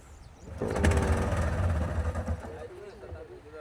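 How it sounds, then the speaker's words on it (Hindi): A boat engine is cranked over and over at a lake without catching, a rough close mechanical churning that swells and then fades, with voices in the background. "बोट का इंजन स्टार्ट नहीं हो रहा है"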